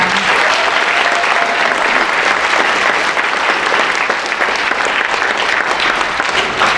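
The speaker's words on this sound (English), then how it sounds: "One more round of applause for them." An audience at a school Veteran's Day ceremony claps for performers, a loud, continuous wash of many hands that holds evenly for several seconds without any speech.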